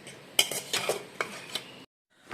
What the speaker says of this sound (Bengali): চলো ভাতটা বেড়ে নিই